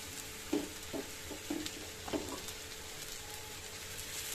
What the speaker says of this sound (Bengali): এবার এগুলোকে আমি ভালোভাবে ভেজে নেবো যতক্ষণ না কাঁচা গন্ধটা যায়